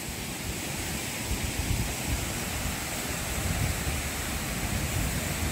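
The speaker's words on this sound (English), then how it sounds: "Come here at Alexandra Waterfall." Alexandra Falls waterfall in Mauritius gives a continuous broadband rushing roar, dense and steady, mixed with some wind on the microphone and no talk.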